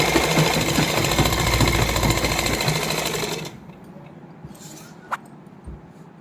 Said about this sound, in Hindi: दोनों कपड़े बराबर पकड़ के फिटिंग की सिलाई को लगा लेना